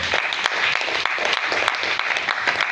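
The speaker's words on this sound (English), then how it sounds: "please round of applause for them" An audience at a summit in Abuja claps steadily, a dense patter of many hands with sharper individual claps standing out, close and continuous for the whole short stretch.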